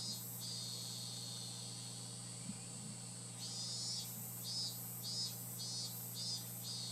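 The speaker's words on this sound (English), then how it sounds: "Oh, there's cicadas." Cicadas in the Higurashi: When They Cry video game drone steadily in a high, shrill buzz. Halfway through they break into a regular series of pulsing chirps, with no talking over them.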